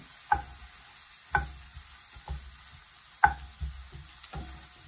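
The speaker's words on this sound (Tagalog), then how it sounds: "After ng sibuyas, lagyan natin ang ating kamatis." Tomatoes and onions frying in a pan while being stirred, with regular spoon knocks against the pan about once a second over a steady background sizzle, close and clear with no talking.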